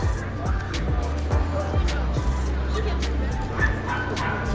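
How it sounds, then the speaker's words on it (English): Several puppies yip and bark in quick, overlapping bursts, high and excited, with a background murmur of voices at a toy fair exhibit. "you hear barking, but I guess you can't see the puppies"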